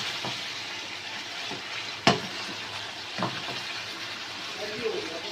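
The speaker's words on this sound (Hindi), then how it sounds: "अब हम इसमें लहसुन अदरक और हरी मिर्ची का पेस्ट ऐड कर देंगे। अब हम करेंगे इसे मिक्स।" Garlic, ginger and green chili paste is stirred in a hot frying pan, a steady sizzle with scattered scraping clicks of the spoon, one sharper knock near the middle.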